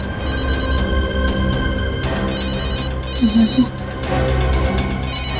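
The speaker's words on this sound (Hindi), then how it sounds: "कब से फोन बज रहा है, उठा लो।" A mobile phone rings with a repeating electronic ringtone, bright tonal bursts recurring in a steady pattern over a low background hum, fairly loud and close.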